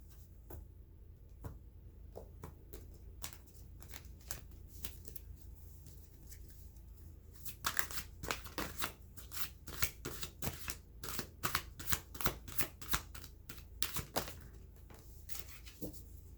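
An oracle card deck being shuffled by hand, soft papery riffles and light taps, sparse at first and then a quick run of crisp close shuffles, quiet and without speech.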